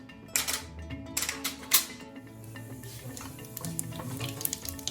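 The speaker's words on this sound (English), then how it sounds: "Into some heated oil, spluttered a teaspoon of mustard seeds, then goes in a teaspoon of cumin seeds" Mustard and cumin seeds spluttering in heated oil, a sharp crackling popping in quick bursts that flare and fade over a steady sizzle, close and fairly faint.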